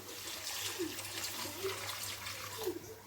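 Water pours and splashes into a pan of mustard and poppy seed paste, a continuous close gushing with a low hum underneath.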